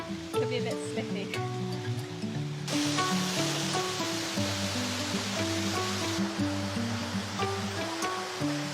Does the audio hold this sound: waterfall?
yes